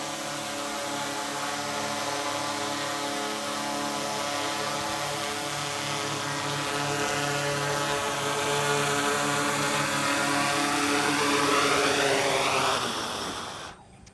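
A DJI Mavic 4 Pro drone hovers and flies nearby with a steady whining propeller buzz full of sustained tones, swelling louder late before cutting off abruptly.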